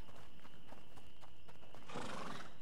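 A single horse whinny near the end, fairly faint, over a quiet steady background hum with light clopping sounds before it, in the video game A Plague Tale: Innocence.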